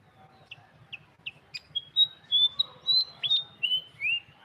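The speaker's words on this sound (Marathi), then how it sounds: "पहा कसा सकाळ सकाळी सुंदर आवाज येतोय पक्ष्यांचा" Several birds chirp and whistle in short, bright morning calls that grow more frequent, singing close by over a quiet background.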